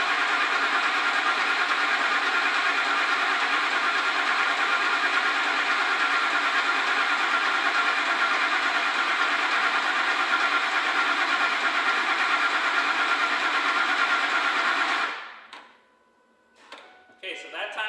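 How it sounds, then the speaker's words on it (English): A Ford 5.4L engine running at a steady, loud, even drone for about fifteen seconds before it cuts off abruptly into quiet, followed by a few faint clicks. "Shut the key off for a cycle and let your foot off the throttle and then go ahead and start it."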